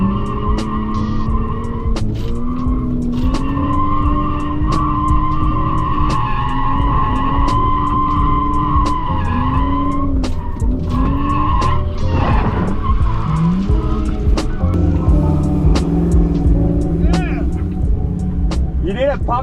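A Lexus GS300 drift car with a 2JZ engine skids around a track, its tires squealing in long wails over a droning, revving engine. Rapid clicks and shifts break in, and the sound stays loud and close throughout.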